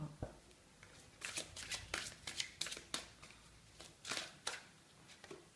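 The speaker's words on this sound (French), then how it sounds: "Je vais prendre les cartes du chemin d'or." Chemin d'or oracle cards being shuffled, a close, continuous run of soft papery riffles and taps with a steady rhythm throughout.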